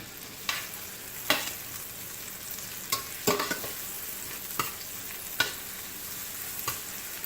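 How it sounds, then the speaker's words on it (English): Garlic and Scotch bonnet pepper sauteing in a pan for Jamaican callaloo and saltfish, a soft steady sizzle with occasional sharp clicks and stirring scrapes, fairly quiet and with no talking. "I just love the smell of sauteing garlic, but when you add that Scotch bonnet to it"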